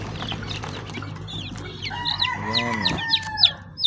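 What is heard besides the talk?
baby chicks peeping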